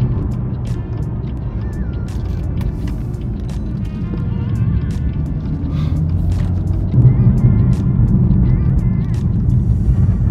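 A 2017 BMW M4 with an automatic gearbox rumbles along at speed, its engine note shifting as the gears change quickly amid road and wind noise, with a voice talking over it.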